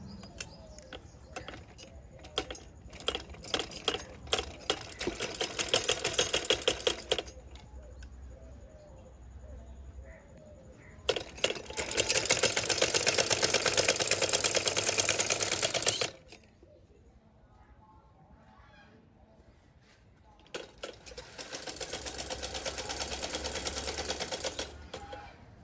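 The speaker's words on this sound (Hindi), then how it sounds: "शलवार के जोड़ मैंने लगा दिए हैं और अब इसकी बाकी की सिलाई करती हूँ।" Sewing machine stitching the seams of shalwar clothing in a village home: three long, even runs of rapid mechanical chatter separated by quiet pauses, with faint birds cooing in the background.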